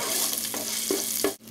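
Chili garlic paste sizzles in hot sesame and vegetable oil in a pan while it is stirred, a continuous frying hiss with a few scraping strokes before a sudden cut.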